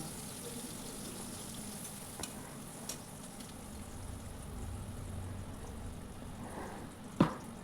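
Chopped onions fry in oil in a wok, giving a steady, even sizzle with soft stirring scrapes and a single sharp clank near the end.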